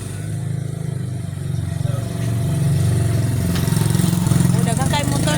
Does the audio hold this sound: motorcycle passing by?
yes